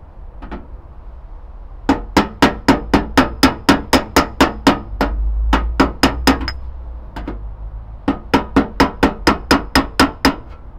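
Sharp metallic hammer blows on car body metal at the wheel arch strike in quick regular runs, two long series separated by a short pause, loud and close.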